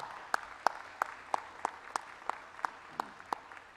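Applause at a university School of Nursing convocation ceremony: a steady, rhythmic run of sharp claps at an even pace, clear and fairly close, with no voices over it.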